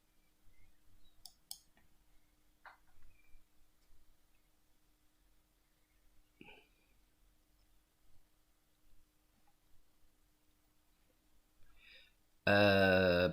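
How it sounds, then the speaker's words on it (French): Computer mouse clicks sound as a few sparse, soft taps spread across a quiet room, followed by a sudden loud burst of other sound at the very end. "Et vous allez cliquer."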